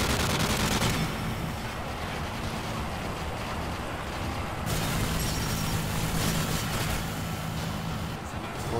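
Dense gunfire in Modern Warfare 3's Survival mode on the Offshore map, a continuous roar of overlapping rapid shots and rattling bursts, loud and close with no pauses.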